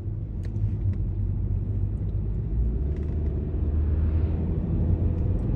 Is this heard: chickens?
no